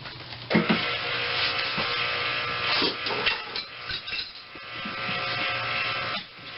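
An electric hand mixer whirs on slow speed through banana nut bread batter made with Gold Medal flour, a steady close motor drone with soft beater rattles and scraping against the bowl.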